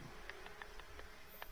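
Bees buzzing in The Sims 4, heard as a faint, quiet series of short buzzy pulses at a steady rhythm, about six brief bursts.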